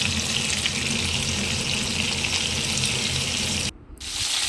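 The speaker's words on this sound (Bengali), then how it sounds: "এবার তেলে আলুগুলো নুন হলুদ দিয়ে ভেজে নেবো" Potato pieces frying in oil with salt and turmeric give a steady, close hiss and sizzle that runs evenly, then cuts out briefly near the end before the sizzling resumes.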